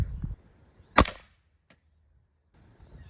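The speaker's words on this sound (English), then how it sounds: "I'll be right back when I load the BB gun back up and shoot all the rest of them" Wild west style BB gun firing at water bottles and pop cans, a single sharp crack up close followed by a faint tick of the pellet hitting, with quiet around it.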